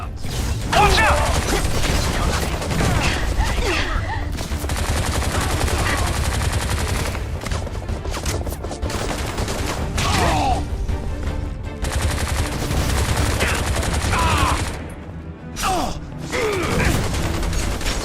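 Sustained video game firefight with bursts of automatic gunfire and mechanical clatter, broken by brief pauses, loud and continuous, with voices shouting in places.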